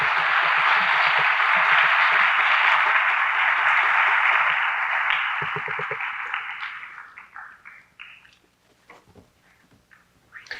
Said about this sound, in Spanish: Recibamos al doctor con un fuerte aplauso.